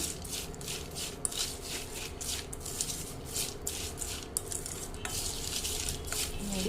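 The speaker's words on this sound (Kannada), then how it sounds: "ನೀಟಾಗೆಲ್ಲ ಮಿಕ್ಸ್ ಮಾಡ್ಕೊಂಡ್ಬಿಡೋಣ" Seasoned tempering with salt being mixed in a pan for paper poha, a spoon scraping the metal in quick, rhythmic strokes with light clinks, close and fairly quiet.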